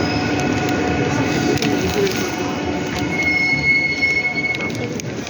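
A subway train pulls into a platform in Korea, wheels grinding and screeching along the rails with a sustained high squeal, loud and close, under a busy station background.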